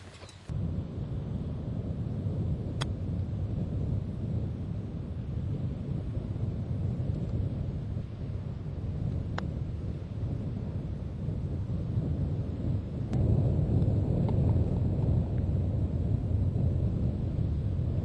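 Wind gusting across a golf course, heard as a steady low rumbling buffet on the microphone with no voices, swelling slightly louder toward the end.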